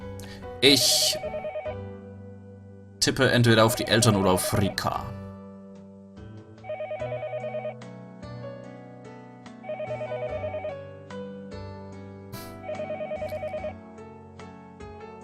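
Telephone ringing in the Higurashi no Naku Koro ni visual novel game: three evenly spaced bursts of electronic ring tone, each about a second long, following a louder opening passage with a voice, all under background music.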